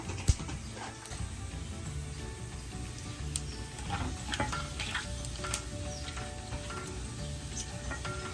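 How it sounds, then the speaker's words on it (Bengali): A spoonful of cumin seeds tempers in hot oil for a Bengali kochu shak dish, crackling in a faint, continuous sizzle dotted with small pops and clicks, low and close. "তেলটা গরম করে নিচ্ছি। দিয়েছে 1 চামচ জিরা ফোড়ন"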